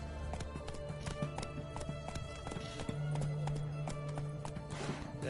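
Roach the horse gallops in The Witcher 3, hoofbeats drumming in a fast, even rhythm close by, with tack rattling and a low droning tone underneath.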